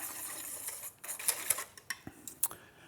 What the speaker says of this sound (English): We'll whisk that together.